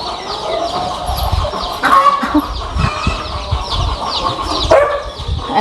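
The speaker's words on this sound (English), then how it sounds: "And these are the regular chickens." Ordinary chickens cluck and murmur steadily nearby on a farm in Guyana, a flock of hens with occasional louder squawks over a busy farmyard background.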